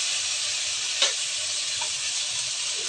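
Spice paste fries in oil in a pan for a Bengali fish-head and biuli dal dish, giving a loud, steady, hissing sizzle throughout, with a light scrape from stirring, one soft knock, and no talk.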